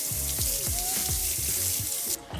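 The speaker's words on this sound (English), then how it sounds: "So we're gonna go and rinse it off and see if that gets the rest of it." Tap water runs in a sink, rinsing Dawn Powerwash dish spray off a dish: a steady close hiss and splatter throughout that thins abruptly just before the end.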